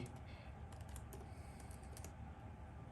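Soft, rapid clicks of typing on a computer keyboard come in irregular bursts, faint and close against a low background hum.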